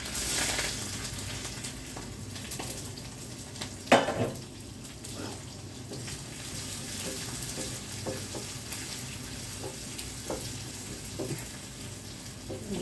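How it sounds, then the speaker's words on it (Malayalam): Mustard seeds and chopped onion sizzle in a frying pan of oil for a tomato curry tempering, a continuous hiss with scattered spoon-stirring scrapes and one sharp clink, heard up close with no talking. "കടുക് പൊട്ടിന്ന് അരിഞ്ഞ് വെച്ചത് കൊടുക്കാം"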